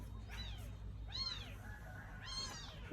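A cat gives three drawn-out meows spaced about a second apart. The meows are fairly faint over a low background rumble.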